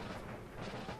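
Distant cannon and musket fire from an Empire Total War battle in Greece rumbles as a dense, continuous wash of muffled booms and crackle, faint and low in level.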